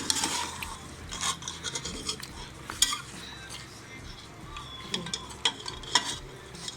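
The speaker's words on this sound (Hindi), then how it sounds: "हम मसालों को अच्छी तरीके से भून लेंगे।" Mutton and spices frying in oil for biryani, stirred in a pot: a soft background sizzle with irregular metallic scrapes and knocks of a spoon, some sharper, close and without talk.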